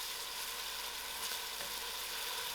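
Chopped onions frying in hot oil for a spicy loki dhal, a steady, close, bright sizzle that stays loud and even throughout with no talking.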